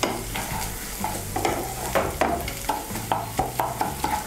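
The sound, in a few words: frying ginger, garlic and green chilli in a pan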